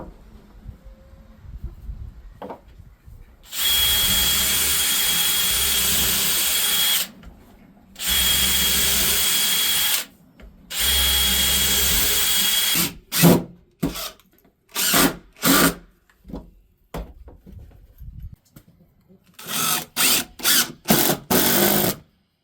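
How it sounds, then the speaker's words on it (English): A power drill drives screws into 2x4 and 4x4 lumber while building an air-drying bunk, with several long steady whines and then a run of short stuttering bursts, close and loud. "So you might have to take a little time to pre-drill things"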